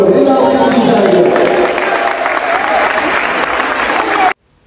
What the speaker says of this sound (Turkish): Beni alkışlayacaksınız.